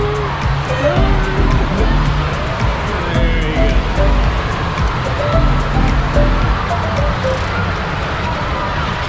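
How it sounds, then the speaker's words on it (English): Waves churning in an indoor water park wave pool at Kalahari Wisconsin Dells, a constant loud rushing wash with splashing, under echoing crowd chatter and children's voices. "One downside to the wave pool is it can get really crowded really fast, especially up by where the waves come out."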